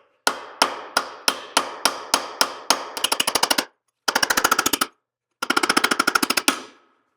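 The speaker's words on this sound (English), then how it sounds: "I'm just hammering on this pipe fitting" Sharp metallic hammer blows of a brass drift on a pipe fitting of a Go Devil L134 jeep engine strike in a steady rhythm, then switch to rapid bursts of quick taps with short pauses between, close and loud.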